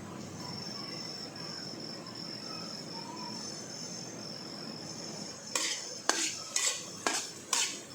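Egg kothu parotta in a pan: a quiet background hum with an insect-like steady whine, then a handful of sharp metallic clinks and scrapes as a utensil stirs and strikes the pan near the end.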